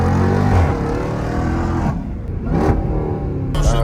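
A Dodge Trackhawk with a Hellcat engine revs hard nearby, a loud harmonic roar that holds, drops off briefly, then surges again in short bursts with crackling pops.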